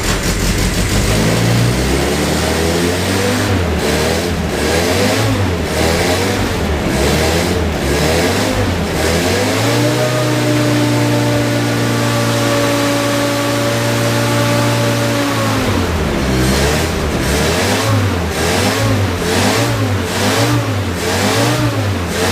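The engine of a Ford GPW jeep, running with its choke partly off, rumbles loudly and close. It revs up and down in repeated surges, settles into a steadier hold in the middle, then revs again.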